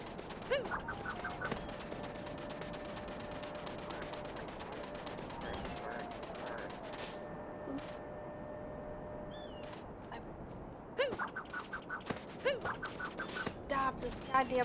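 A bird in the Super Mario Odyssey video game gives rapid, staccato flapping bursts and squawks in clustered volleys, at the start and again near the end. Steady game sounds and a voice carry on between the bursts.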